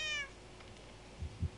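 A short, close cat meow from the Minecraft video game, bright and clear for a fraction of a second, then fading into quiet background hiss with two soft low thumps.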